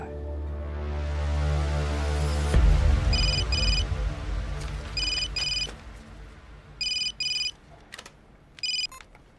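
A telephone rings in repeated short electronic double bursts, spaced a second or two apart after a loud thump, over a low background hum, with no talking.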